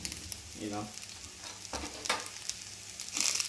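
Eggplant pieces sear in a pot with a soft, steady sizzle, punctuated by occasional stirs and light clinks of a utensil, fairly quiet overall.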